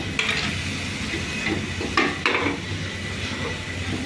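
Grated coconut and coriander are sautéed with snake gourd in a pan, giving a soft continuous sizzle with a few sharp scrapes and clinks of a spoon stirring against the pan.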